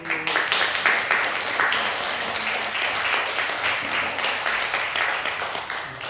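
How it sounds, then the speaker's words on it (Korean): Church congregation at a Sunday worship service applauding in greeting after a prayer for a family of three siblings; steady, fairly dense clapping from many people fills the room without pause. "인사 박수."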